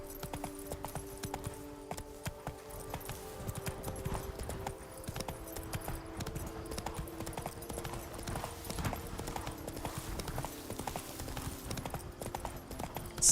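Roach, the horse in The Witcher 3: Blood and Wine, gallops with a quick rhythmic clip-clop of hooves that continues steadily for the whole stretch, joined by faint game ambience.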